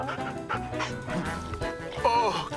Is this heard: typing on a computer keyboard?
no